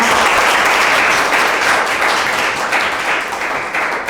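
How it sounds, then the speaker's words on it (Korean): Big applause from the audience at a district urban policy idea competition in Guro-gu, following the final team's presentation; dense, steady clapping fills the whole stretch, loud and continuous, easing slightly toward the end, with no voices over it. "큰 박수 부탁드립니다"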